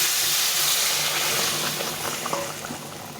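Boiled hot water hits a pan of spiced potato and pointed gourd curry, setting off a loud, steady sizzling hiss that settles slightly toward the end.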